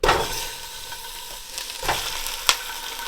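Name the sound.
Italian sausage meat sizzling as it browns in hot oil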